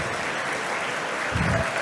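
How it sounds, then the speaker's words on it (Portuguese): Audience applause at a Brazil technology showcase in Brasília, steady dense clapping from a crowd that holds at an even level for the whole stretch and swells slightly toward the end. "aplausos."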